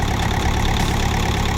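A BOMAG RTK 455 roller's engine, just repaired after overheating and hard starting, runs steadily close by with a dense, even rumble and no voices.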